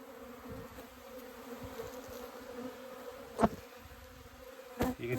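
Honeybees buzz steadily during a spring hive inspection, a dense continuous drone close by with a few sharper knocks and handling sounds from the frames.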